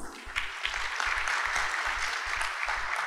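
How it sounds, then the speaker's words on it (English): Applause from the audience at the opening ceremony of an international metallurgy conference and expo, steady clapping filling the room over a low rhythmic music beat. "Please give applause."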